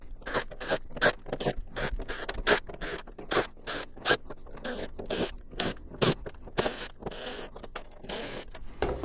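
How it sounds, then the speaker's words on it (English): Screws being backed out of the rear plate of a Sony XBR 55X850D television, a rapid series of short rasping scrapes and clicks in quick, uneven bursts, close by. "let's get these screws out and we will move on to the next step"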